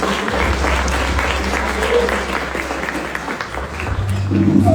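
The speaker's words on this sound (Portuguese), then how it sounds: "Dê um aplauso ao Senhor, aleluia." A church congregation applauds during a worship service, broad sustained clapping from a crowd under a low hum of organ or keyboard tones, with voices mixed in.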